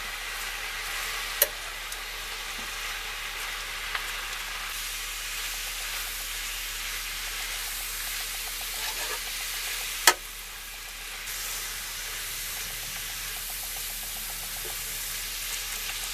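Spinach sautés in a pan with a steady, quiet sizzle and hiss, broken by a few soft clinks of stirring.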